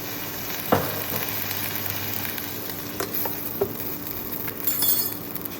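A stir-fry sizzles steadily in the pan after vinegar and chili sauce go in, with a few clinks and scrapes of a utensil against the pan and a brief louder burst of sizzling near the end.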